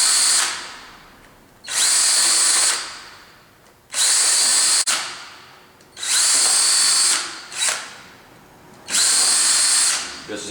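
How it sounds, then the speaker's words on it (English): A cordless drill whirs in five loud, close bursts of a second or so each, separated by short pauses. "helps if you have a cordless drill and make them the right size"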